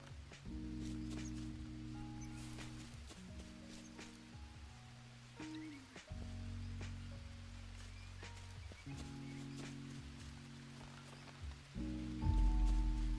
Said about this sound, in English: Yes, rain! Rain and grow my bamboo.